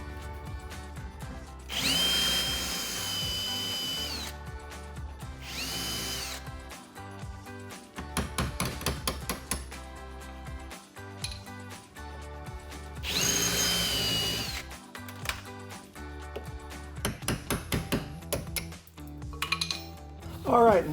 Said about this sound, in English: we may have no choice now but to try to drill it the rest of the way out.